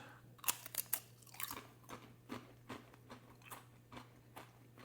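Crisp crunching bites of sour cream and onion Pringles, a burst of sharp crackles followed by steady, rhythmic chewing crunches up close, with a low hum underneath.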